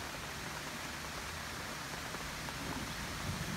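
Steady rain during a thunderstorm drums on a tent at a holiday campsite near Anduze, France, a dense continuous hiss with no clear thunder, filling the whole stretch at an even, moderate level.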